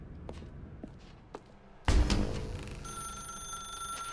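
An old-style telephone bell rings in the video game The Stanley Parable, a loud ringing that starts abruptly and holds steady after some quieter footstep-like knocks.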